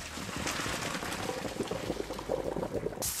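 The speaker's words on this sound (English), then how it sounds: "Once the pasta has cooked for 8 minutes, drain the pasta" Water from a pot of boiled pasta pours into a sink colander as the pasta is drained for chipotle cheddar mac and cheese, a steady splashing rush close by, with no talking.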